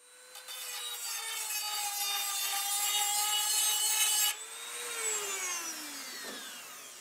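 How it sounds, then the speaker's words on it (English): Sharp chisel scraping and breaking away welds on a steel battery tray of a 1968 Cadillac, a sustained close rasping grind with a shifting tone that drops after a brief pause. "what I'm using is a sharp chisel and just breaking away at the welds along the way"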